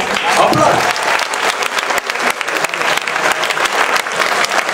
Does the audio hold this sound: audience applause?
yes